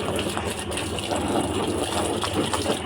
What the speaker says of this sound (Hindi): पानी आ भी रहा है, तुमने चला रखी मोटर